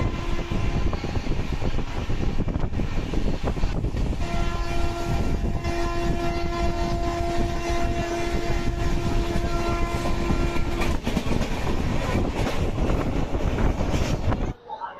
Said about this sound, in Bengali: আমাদের অকালতক এক্সপ্রেস তার 315 কিলোমিটারের যাত্রাপথ অতিক্রম করে এই মুহূর্তে এসে পৌঁছলো জোসিডি জংশনের 2 নম্বর প্ল্যাটফর্মে